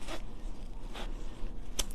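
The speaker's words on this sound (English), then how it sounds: "So all I do is just take my scissors, and I'm just going to start cutting them" Scissors snip through craft material to make faux diced apples for a primitive mini apple pie, giving a few brief, close scraping cuts spaced across a quiet background.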